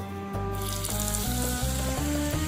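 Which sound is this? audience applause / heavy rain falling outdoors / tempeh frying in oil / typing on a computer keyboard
tempeh frying in oil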